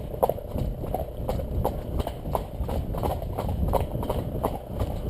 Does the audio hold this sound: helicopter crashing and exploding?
no